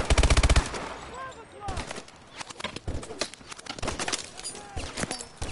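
Rapid automatic gunfire bursts in the first-person shooter Call of Duty: Advanced Warfare, a loud burst at the start followed by scattered shots, impacts and game effects, with some speech mixed in.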